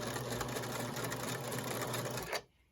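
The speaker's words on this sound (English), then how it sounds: "So this is chain sewing, just feeding one set of pieces through the presser foot at one time." Sewing machine chain-piecing fabric pieces through the presser foot, a quiet steady whirring run that stops abruptly near the end.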